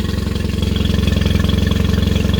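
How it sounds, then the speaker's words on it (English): A Mercury 20 horsepower outboard motor runs loud and close at a steady idle, its rapid even pulsing chug continuing without a break and with no voices. "that is how you do a proper spring startup for a 20 horsepower Mercury Outboard"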